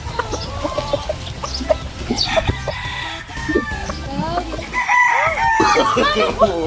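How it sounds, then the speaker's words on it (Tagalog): Fighting-cock chickens cluck and squawk close by, with a rooster's crow rising among the busy, overlapping calls of a farmyard flock. "Diyan mo yung manok."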